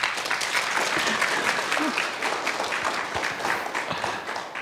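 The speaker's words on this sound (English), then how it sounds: "I think he deserves another round of applause from us." Conference audience giving a round of applause, dense, energetic clapping that swells and holds for several seconds with a few scattered voices.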